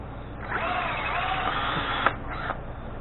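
A power drill fitted with a 13/64 drill bit bores into a part during assembly of an 80cc bike motor, whining steadily for a couple of seconds, then stopping with a short click and a brief second burst.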